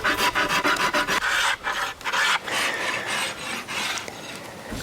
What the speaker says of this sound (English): the rest of my tailoring is gonna be done with this rasp to fine tune everything and make this bow look pretty